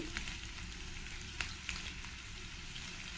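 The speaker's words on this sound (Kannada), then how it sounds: "ಇದನ್ನೆಲ್ಲ ಸ್ವಲ್ಪ ಚೆನ್ನಾಗಿ ಫ್ರೈ ಮಾಡ್ಕೊಳ್ತೀನಿ ಎಣ್ಣೆಯಲ್ಲಿ ಈರುಳ್ಳಿ ಮತ್ತು ಕ್ಯಾಪ್ಸಿಕಮ್" Sliced onions and capsicum sizzling steadily in hot oil for a cabbage ball manchurian, with a constant bright crackle and a few sharper pops, close up and with no voices.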